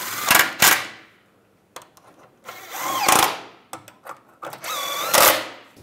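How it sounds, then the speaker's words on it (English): Steering bolts being snugged down on a 1998-2010 Volkswagen Beetle during front lower control arm bushing work, giving several short bursts of a power tool or ratchet with quiet gaps between them, close and fairly loud. "Snug the steering bolts down."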